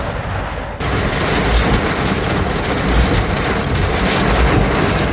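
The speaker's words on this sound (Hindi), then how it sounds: "देखो कितनी तेज बारिश हो रही है, मज़ा आ गया यार।" Heavy rain pouring at Atul Katariya Chowk, a dense, loud, steady hiss of downpour that swells suddenly after a quieter start and continues unbroken, close and without voices.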